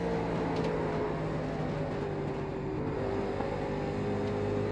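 A late model race car circles Iowa in the iRacing sim, its engine a steady droning tone that holds level for the whole stretch, loud and close with no speech.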